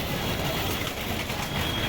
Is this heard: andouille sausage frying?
no